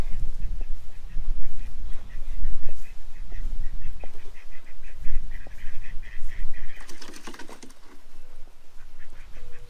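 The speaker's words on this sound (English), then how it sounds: "Crazy ducks." Ducks quack repeatedly and loudly near the listener, with a burst of wing flapping partway through and an outdoor farm bustle underneath.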